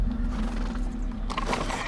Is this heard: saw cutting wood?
no